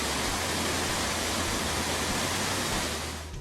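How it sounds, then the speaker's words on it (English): Eternal Flame Falls, a waterfall in a valley with a natural gas flame burning beneath it, gives a steady, dense rush of falling water that stays constant throughout and fades slightly at the very end. "The Eternal Flame Falls Valley is an iconic and unusual waterfall"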